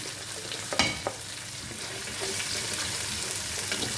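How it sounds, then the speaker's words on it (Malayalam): Mustard seeds, chopped ginger and garlic fry in coconut oil for Kerala beef ularthiyathu, a dense continuous hiss and crackle with a couple of sharp spoon taps early on, close and steady. "കടുക് 1 ടീസ്പൂൺ ഇട്ട് കൊടുക്കുന്നുണ്ട്. ഇഞ്ചി അരിഞ്ഞത് 2 ടേബിൾ സ്പൂൺ ഇട്ട് കൊടുത്തിട്ടുണ്ട്."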